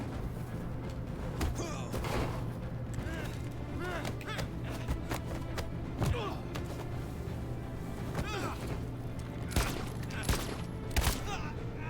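Gunfire in the video game Detroit: Become Human, a steady crackle of shots with repeated sharp bursts over a constant humming background.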